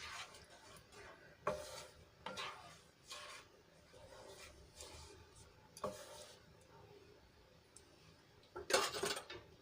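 A spoon stirring buttermilk and water into gravy in a cooking pot, with scattered clinks and scrapes of metal against the pan coming in irregular bursts, the sharpest near the end, and no talking.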